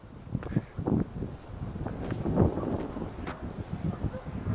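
Strong wind gusts buffet an outdoor microphone on a garden plot in early summer, producing a low, rumbling roar in uneven bursts that swells and fades without pause.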